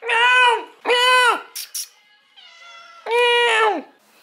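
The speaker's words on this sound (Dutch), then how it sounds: "Wie zit er zo te miauwen?" A cat meows loudly and close by, three clear drawn-out meows with short pauses between them, plus a softer chirp in the middle.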